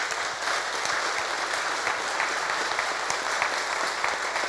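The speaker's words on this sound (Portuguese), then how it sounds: "merece uma grande salva de palmas" Dense, sustained applause from a large audience at a Progressistas party gathering in Veranópolis, honoring the party president, steady and loud throughout with no talk over it.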